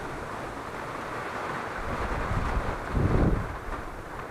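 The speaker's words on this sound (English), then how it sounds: "A gust on camera." Hurricane Ian's strong wind roaring against the microphone, building into a heavier gust near the end with deep rumbling buffeting.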